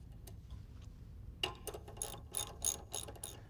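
Ratchet tightening a caliper mounting bracket onto a spindle on a 1967 Chevy C10 truck build: quick bursts of close, crisp clicking, several short runs in a row after a quiet start.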